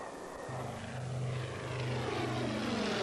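A Consolidated B-24 heavy bomber roars past at very low altitude over desert, its piston engines and propellers droning loud and steady, swelling slightly as it nears.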